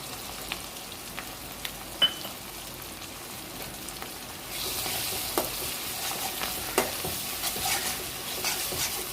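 Masala frying in oil in a pan for stuffed brinjal curry, with steady sizzling and intermittent stirring scrapes that grow louder and denser midway, close up with no talk.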